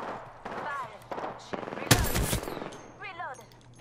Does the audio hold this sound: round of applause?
no